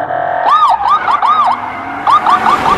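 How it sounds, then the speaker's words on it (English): An American police car siren yelping in quick rising-and-falling wails, loud and close, with a brief pause before the rapid cycling resumes. "This is an American police car."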